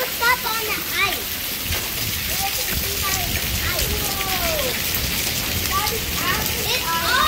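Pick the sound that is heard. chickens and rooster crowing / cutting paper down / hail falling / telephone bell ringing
hail falling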